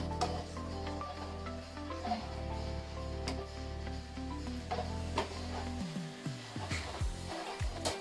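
A spoon stirs semolina kheer with cashew, almond and cardamom powder in a pot, giving soft repeated scraping and rubbing strokes with light bubbling beneath, steady and close.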